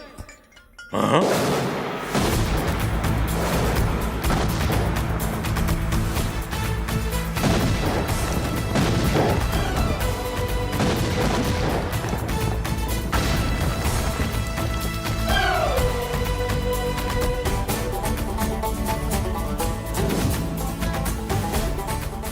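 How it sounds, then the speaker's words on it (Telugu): Loud, dense crashing bangs and booms of bomb explosions go off continuously over a busy musical backdrop, with brief shouted voices in between. "బాంబులు ఆపుండ్రి."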